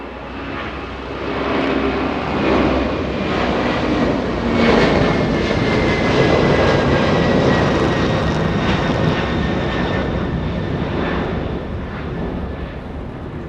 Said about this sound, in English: That's an A300 getting a move on